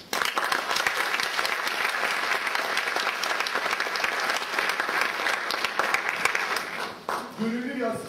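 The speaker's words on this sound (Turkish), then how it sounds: "Alkışlarınızı rica ederim." Sustained audience applause at a theatre premiere, a loud, dense crowd clapping steadily for several seconds, easing briefly near the end as a voice begins over it.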